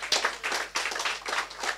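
A church congregation applauds, a short burst of several people's hand claps in an uneven rhythm.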